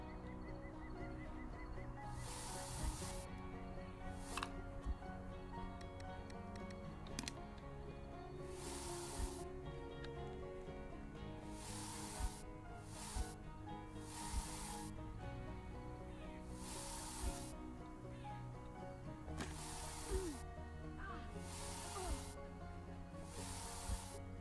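Spray bursts in the survival game I Am Future, a run of short hissing puffs repeating every second or two over a quiet game background, with no talk.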